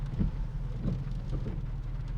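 Steady rain and low road rumble surround an old Australian classic workhorse vehicle driving in rush-hour traffic. Constant, even wash of noise with soft thumps, no speech.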